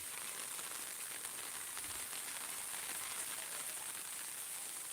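Steady rain falls over Akala village in an even, unbroken hiss, close and constant throughout, with no voices or other sounds.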